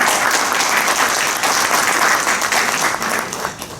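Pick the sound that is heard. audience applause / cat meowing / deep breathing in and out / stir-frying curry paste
audience applause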